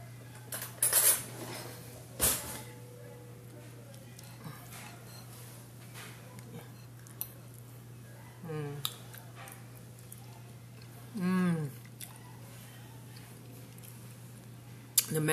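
Cutlery clinks against a dish in a few sparse bursts as sweet rice with mango is eaten, with faint chewing between, set against a steady low hum in a quiet room.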